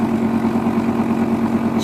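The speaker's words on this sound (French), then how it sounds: "ainsi la pompe va fonctionner tout seul" A BeSave vacuum pump runs on its own in a kitchen, giving a steady, close mechanical hum with a fine rapid pulse throughout and no talking.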